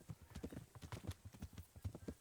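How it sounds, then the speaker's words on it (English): A horse's hooves clip-clop in a steady trotting rhythm in the video game Kingdom Come, a quiet run of even, repeated thuds with no voices. "Getting around by horse is actually pretty simple"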